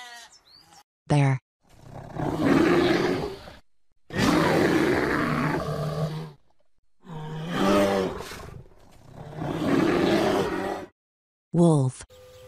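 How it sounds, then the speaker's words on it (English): A bear growls in several long, rough, roaring bursts separated by short pauses, loud and close, with no talking. "Bear."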